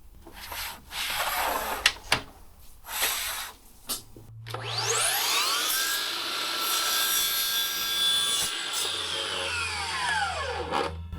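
Wooden architrave cut on a miter saw with a bevel set, face down: a few rubbing and handling knocks, then the saw motor spins up and whines loudly for several seconds, close by, before winding down.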